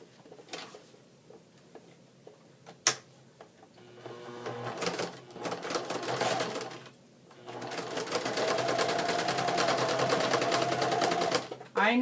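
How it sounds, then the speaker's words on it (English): A sewing machine stitches along the fabric edges of a collage pencil bag, coming in short bursts of whirring and then a longer steady run, with brief pauses and handling noises between. "So we're going to sew our edges"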